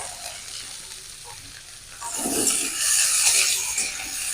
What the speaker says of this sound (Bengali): ডুমোর ভাজবো একটু লবণ দিয়ে দেবো একটু হলুদ দিয়ে দেবো